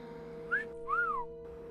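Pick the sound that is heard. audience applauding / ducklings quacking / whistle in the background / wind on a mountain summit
whistle in the background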